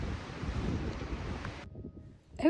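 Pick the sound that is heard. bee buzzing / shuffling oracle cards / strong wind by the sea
strong wind by the sea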